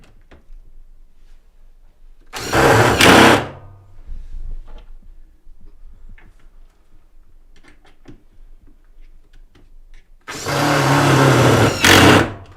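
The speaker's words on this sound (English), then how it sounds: "we've given Lou a little percussion screwdriver" A small electric percussion screwdriver driving screws into loft boards, two separate bursts of close, loud whirring a few seconds apart with quiet handling in between.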